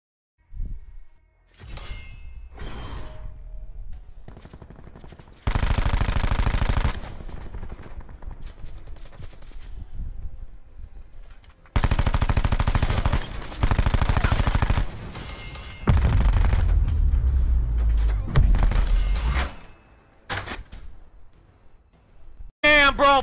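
Rapid automatic gunfire in Black Ops 4 comes in several loud, sustained bursts separated by quieter stretches of game sound.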